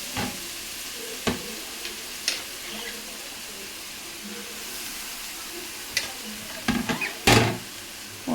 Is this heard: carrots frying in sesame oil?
yes